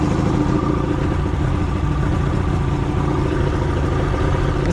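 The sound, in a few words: Glastron CV16 boat engine running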